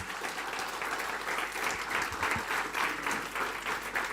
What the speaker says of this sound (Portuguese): Quem pode dar um aplauso bem bonito para o Senhor?